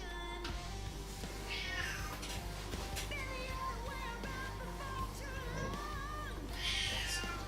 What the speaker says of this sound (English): If there's something in the background, it's my cat.